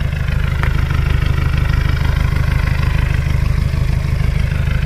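A 1977 Toyota Land Cruiser hardtop diesel engine idles steadily and close by, a loud, even low rumble with a constant pulsing beat throughout and no voices over it.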